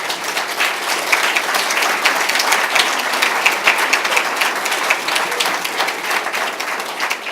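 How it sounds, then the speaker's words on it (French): Loud, continuous applause from a conference audience at a closing session on space, many hands clapping together at a steady level from start to finish. "Je pense qu'on peut vraiment les applaudir."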